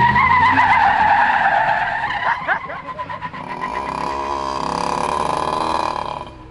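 Shifter kart engine revving hard with squealing tires, a loud rising whine that sweeps and wavers, then a rougher sustained buzzing roar, close by.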